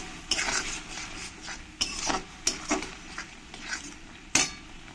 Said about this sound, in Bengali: দিয়ে ভালো করে সব কিছুর সঙ্গে মিশিয়ে নেব।